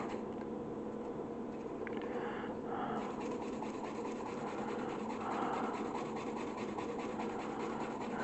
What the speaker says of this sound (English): And giving a lot of a big old scrub here.